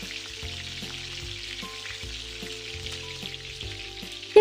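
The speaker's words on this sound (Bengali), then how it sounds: "এবার সব কিছুকে একসাথে একটু ভেজে নিচ্ছি।" Panch phoron, ginger, green chilli and asafoetida fry in mustard oil, giving a soft, continuous sizzle and crackle. Gentle background music with a steady low beat plays underneath.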